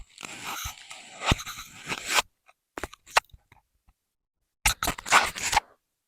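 A candy bar is bitten and crunched up close, loud crisp snaps and chewing crackles arriving in irregular bursts separated by silent pauses, with a final cluster of crunching toward the end.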